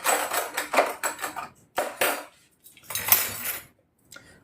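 Several spoons clink and rattle against each other and dishes in short bursts, close and bright, with gaps of near silence between handling sounds.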